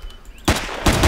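Two loud, booming weapon blasts in Empyrion Galactic Survival, about 0.4 seconds apart, each followed by a sustained roaring tail, after a quieter lead-in.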